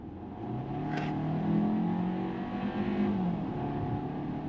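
A Hyundai Kona with a 1.6 liter engine, 190 horsepower, pulling from a rolling start, its engine note rising steadily as it accelerates, heard moderately from inside the cabin.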